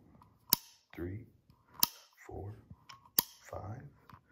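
A revolver's cylinder is loaded and turned, giving three sharp, crisp metallic clicks evenly spaced about a second apart, each followed by softer ratcheting and handling noise, close and fairly quiet.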